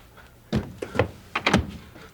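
A door is handled in a series of solid knocks and thunks, several uneven hits close by, with short gaps between them and no voices.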